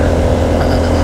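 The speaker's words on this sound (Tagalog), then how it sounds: "Gapang yung motor mga kahiwi." A motorcycle engine labors up a steep road in Lagonoy, Camarines Sur, Philippines, giving a loud, steady, close droning roar with no gaps.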